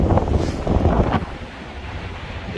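Strong gusting wind buffets the microphone in open Nebraska or Iowa prairie country, a loud roaring rush that eases slightly toward the end, with no voices.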